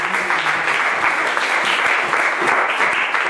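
A church congregation applauds steadily and loudly throughout, a dense continuous wash of clapping from many hands with no pauses.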